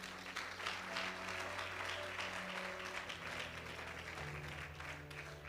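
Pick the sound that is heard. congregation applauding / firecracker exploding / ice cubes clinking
congregation applauding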